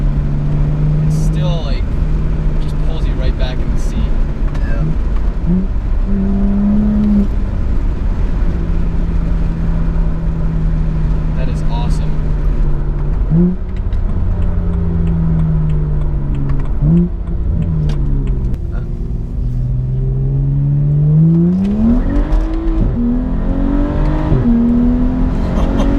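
A tuned 2011 BMW 135i making 350 wheel horsepower accelerates hard in sixth gear, its engine a loud, steady droning growl that climbs gradually in pitch, with people talking throughout inside the cabin.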